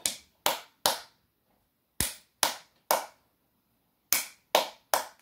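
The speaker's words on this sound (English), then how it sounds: "So, it's a flat clap." Nine sharp flat-handed claps, one hand striking a stationary palm, in three groups of three with short pauses between groups, crisp and close with no talk.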